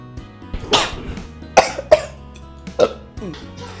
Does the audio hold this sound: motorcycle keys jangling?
no